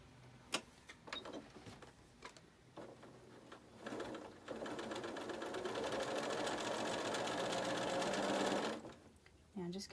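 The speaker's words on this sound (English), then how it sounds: "I am going to put them together and sew" A sewing machine stitching quilt blocks together, a few separate clicks and short bursts first, then a steady whirring run of several seconds that stops abruptly, close and clear.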